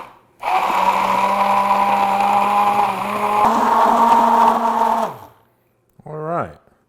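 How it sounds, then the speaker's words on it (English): An immersion blender pinning chipotle peppers at the bottom of a container whirs loudly and steadily for about four and a half seconds, shifting pitch midway, then winds down before a brief second pulse. "I'm gonna get the immersion blender down to the bottom and kind of pin the peppers and just start it"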